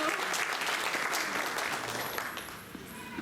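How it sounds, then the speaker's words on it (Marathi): An audience at a public lecture-series talk claps heartily in dense, continuous applause that stays loud, then eases off slightly toward the end. "जेव्हा टाळ्या वाजवाव्याशा वाटतात तेव्हा तुम्ही अगदी मनसोक्त वाजवा"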